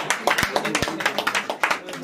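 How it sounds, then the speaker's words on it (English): Guests at a baby's christening clap for the mother, quick uneven handclaps from a small group close by, mixed with overlapping chatter and voices. "clap for Mama"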